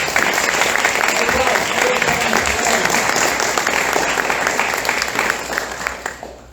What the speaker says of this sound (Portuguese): Salve de palmas para todos que vieram.